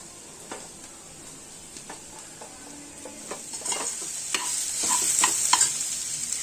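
Capsicum sautés in a pan with a light salting, a soft steady sizzle that slowly grows louder, broken by occasional scraping stirs of a utensil.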